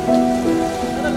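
Steady rain falls during a flood rescue on the swollen Rapti River, where army and police boat teams are working; a soft, even patter sits under faint tonal background sound for a brief moment.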